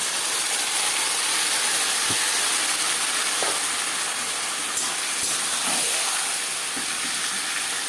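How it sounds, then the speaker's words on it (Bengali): Marinated chicken dropped onto lightly fried onions in a hot pan gives a steady, loud hiss of sizzling oil, with a few soft clinks and stirring knocks, and no voices. "এবার দিয়ে দেব ম্যারিনেট করে রাখা চিকেন।"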